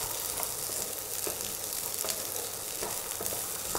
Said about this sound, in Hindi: सिर्फ 1 मिनट के लिए इसको तेल में इस तरह से भून लेते हैं